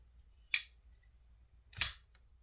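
A Kunwu pocket knife front-flipped open twice, each a sharp, crisp metallic snap about a second apart, close and isolated against near silence.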